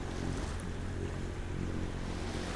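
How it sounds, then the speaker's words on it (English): Waves breaking over two reefs at sea, heard from a sailboat passing close by: a steady, loud broadband wash of surf and wind noise with no talk. "see the waves breaking over them"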